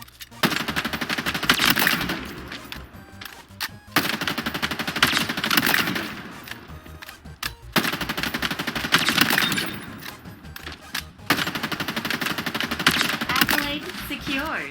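Rapid automatic gunfire from an assault rifle in a Halo Infinite weapon drill comes in four sustained bursts of about three seconds each, loud and close, with brief pauses between them and game sounds underneath.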